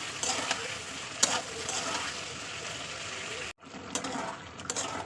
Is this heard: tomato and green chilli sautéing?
yes